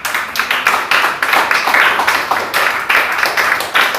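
A church congregation claps in praise to the Lord during a Spanish-language sermon, steady rhythmic clapping in loud pulsing waves that fill the room without any spoken words.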